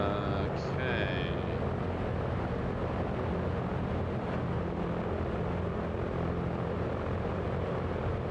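Droning engines of a Microprose B-17 bomber in Microsoft Flight Simulator 2024 flying over the Grand Canyon: a loud, dense, unbroken roar filling the whole span, with a brief tonal chime early on.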